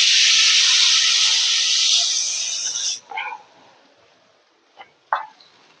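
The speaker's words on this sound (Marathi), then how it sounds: "तवा गरम झालाय, आता मी हे धपाटे त्याच्यावर टाकून घेता." Spinach dhapate flatbread dropped onto a hot griddle sizzles in a loud, bright hiss for about three seconds, then falls away to near silence broken by a few short clinks and scrapes.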